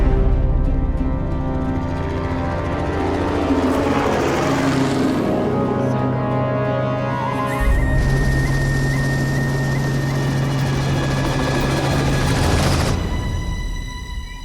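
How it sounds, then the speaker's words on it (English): A steady, loud rotor and engine drone of a helicopter in flight over African terrain searching for eland, continuous throughout with a shifting pitch and a sharp change partway through. "The helicopter sets off to find the eland."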